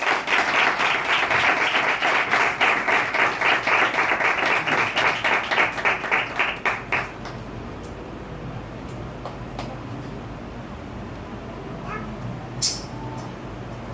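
A congregation at a Pentecostal Sunday church service claps loudly in a steady, rhythmic unison beat for about seven seconds. The clapping then dies away into a quieter room with a few faint stray sounds.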